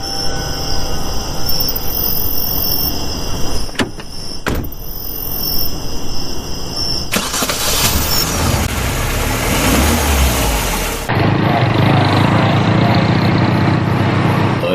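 A car engine runs close by, a loud continuous idle and rev with abrupt shifts in tone and a couple of sharp clunks, heard alone without talk.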